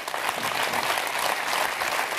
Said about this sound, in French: Oui, je vous demande de les applaudir.